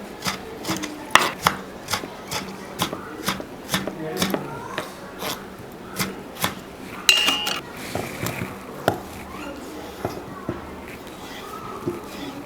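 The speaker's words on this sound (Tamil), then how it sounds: "அடுத்தது நம்ம எடுத்து வச்சுருக்க தக்காளியை நம்ம கட் பண்ணி எடுத்துக்கலாம்." Tomatoes being cut with a knife for dhaba-style chicken gravy, heard as a steady series of crisp chopping taps on a board, fairly close, with a voice talking at moments.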